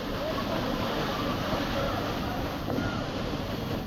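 A waterfall near a highway in Goa gives a constant broadband rush of falling water, fairly loud and unchanging, with no voices over it.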